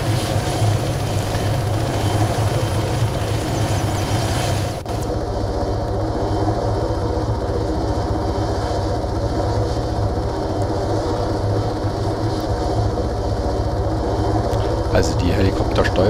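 Helicopter in the Arma 3 game flying over Altis, a steady droning rotor and engine hum that holds level throughout, with a brief shift in tone partway through and someone talking over it.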